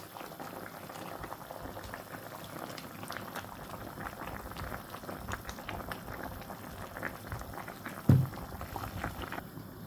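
A pot of cauliflower and fish curry simmers in thin broth, giving a steady bubbling boil throughout with one brief louder clatter near the end; no talking.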